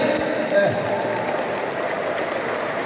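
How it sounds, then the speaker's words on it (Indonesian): A large crowd gathered in a stadium for an Indonesian party event applauds with continuous, even clapping that sounds broad and somewhat distant. "tepuk tangan buat beliau Bung Siswanto, luar biasa, tepuk tangan yang meriah"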